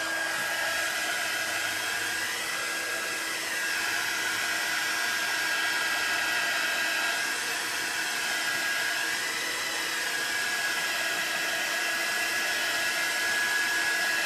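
A hair dryer blowing on a craft project, a constant close whine and rushing airflow held steady for the whole stretch, with slight pitch dips as it moves and no talking.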